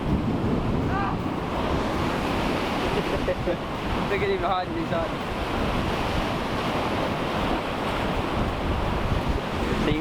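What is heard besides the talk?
ocean waves crashing on shore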